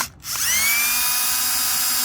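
A power tool drives an 8mm screw on a BMW E90 during ignition coil work, a close, loud, whining spin that starts after a brief pause and holds steady.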